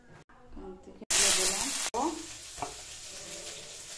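Oil sizzles loudly in a wok with a burst of intense frying partway through, ahead of cooking spinach with prawns, under stirring and someone talking.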